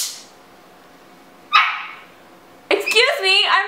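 A pet dog barks at home: a sharp single bark, then after a pause a louder burst of rapid, yelping barks close to the microphone.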